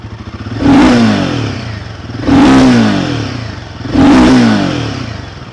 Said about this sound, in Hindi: और उसी के साथ बाइक की आवाज़ सुनिए।